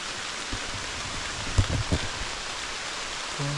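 Heavy rain pours steadily in a broadband hiss during a downpour in Laos or Thailand, with a couple of brief louder thumps near the middle and no voices.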